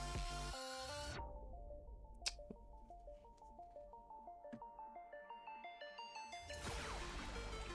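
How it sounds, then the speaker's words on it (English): A mobile phone ringtone plays as a repeating electronic melody, steady and moderately loud, between louder stretches of background music in a quiet late-night room, with no talking. "I forgot to mute my phone again"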